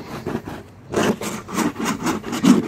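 Old foam being scraped off a vehicle headliner in a shady spot, a series of rough, rhythmic rasping strokes close by, about eight passes after a brief pause, with no talking.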